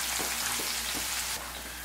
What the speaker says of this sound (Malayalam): ഇനി ഇതിലേക്ക് തന്നെ നമുക്കൊരു 2 സവാള നീളത്തിൽ കനം കുറച്ച് മുറിച്ചതിട്ടിട്ടൊന്ന് ഫ്രൈ ചെയ്തെടുക്കാം.